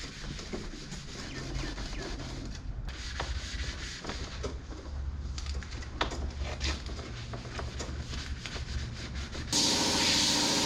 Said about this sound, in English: I'm just going to scotch the whole bar